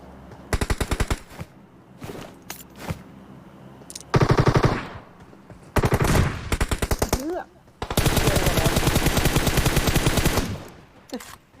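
Bursts of rapid automatic gunfire from a game, several sustained volleys separated by short gaps, loud and close.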